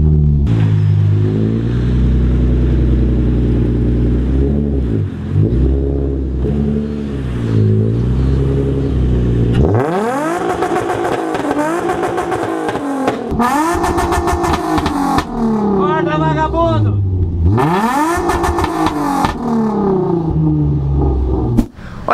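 A car engine warms up and revs hard at close range, with a steady loud idle drone followed by repeated aggressive throttle blips and rising revs in the second half, with no voices.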